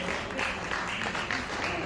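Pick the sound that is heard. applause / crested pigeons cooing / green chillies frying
applause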